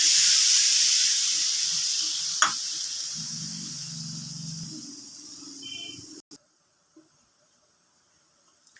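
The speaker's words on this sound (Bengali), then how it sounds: "ঝোলটা ফুটে উঠেছে" Fish curry gravy for katla bubbles in a pan with a bright sizzling hiss that gradually fades, a few soft clinks, then near silence.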